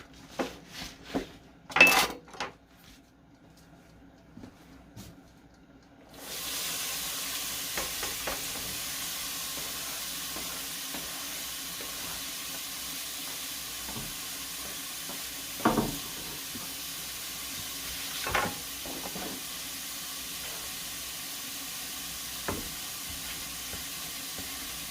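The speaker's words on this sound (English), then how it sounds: "Take this over here and dump it in the skillet." Food is dumped into a skillet for garbanzo noodles with mushrooms and walnuts. A few utensil clatters come first, then a steady faint sizzle takes over, broken by occasional soft clinks of a pan.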